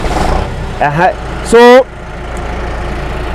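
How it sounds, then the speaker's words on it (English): A steady low tractor engine idle rumbles throughout during crop spraying, with a person's brief speech and a short tonal sound rising over it midway. "can you start the tractor, please"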